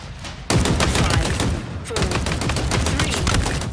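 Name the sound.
Commando automatic rifle firing in the video game Halo Infinite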